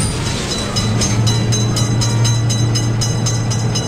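A game train on an Indian rail line rolls steadily past a level crossing, its loud continuous rumble carrying a low drone and regular wheel clatter throughout, with no voices.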